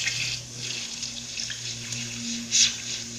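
Water runs from a tap in a steady, moderately quiet stream with a brief louder splash near the end, over a low background hum.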